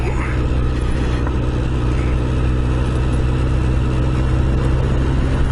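A 1988 Honda CBR1000F motorcycle engine while riding, a steady loud drone with constant low rumble and wind noise throughout, no clear changes in pitch.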